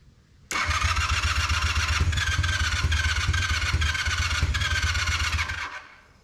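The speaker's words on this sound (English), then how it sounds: "I'm just going to watch the gauge as I hit the starter. Just give it a few revolutions just to pump up the PSI" An old motorcycle engine cranks on its starter for a compression test, a steady, loud, rhythmic churning that runs for about five seconds before winding down.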